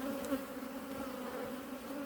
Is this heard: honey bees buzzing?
yes